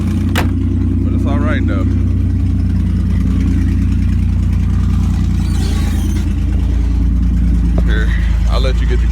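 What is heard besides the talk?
car engine revving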